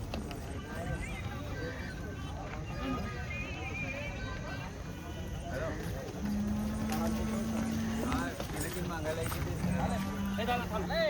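Bullocks walk at a bullock market in Chalisgaon, with a steady run of hoof clops on the ground under near-constant talk from traders and a background crowd.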